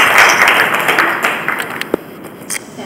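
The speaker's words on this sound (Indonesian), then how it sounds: "Kita berikan tepuk tangan dulu untuk" Audience applause at a seminar on Indonesian education, fading from a burst of clapping into a few scattered claps and taps within about three seconds.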